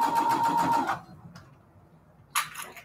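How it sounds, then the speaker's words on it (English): A sewing machine backstitches a cathedral window quilt pillowcase in one brief burst of rapid mechanical whirring, then stops, followed by quiet and a short click near the end. "Gotta remember to backstitch."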